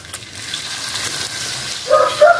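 Ground spice paste sautéed with shredded fried chicken in a pan for a stuffed cireng filling, a loud close sizzle with stirring scrapes that rises and crackles more strongly near the end.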